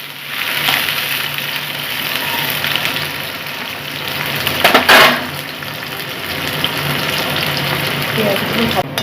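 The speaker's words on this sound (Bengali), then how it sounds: "এখন আগে দুটো পেঁয়াজ আমি ভেজে নিব" Onions frying in a pan for paneer do pyaza, a steady loud sizzle and crackle running throughout with a brief louder burst midway.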